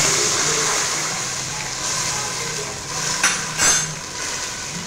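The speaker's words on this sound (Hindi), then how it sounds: "अब हम इसमें डालेंगे पानी।" Water pours into a hot pan of heated cumin seeds for cumin rice. It makes a continuous hiss and rush at close range, with a couple of brief clinks near the end.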